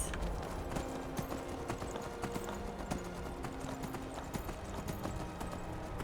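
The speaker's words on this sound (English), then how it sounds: "I guess we'll ride the horse." Horse hooves clip-clop steadily in Skyrim as a rider travels near the northern coast, with even, brisk rhythmic steps over faint background game ambience.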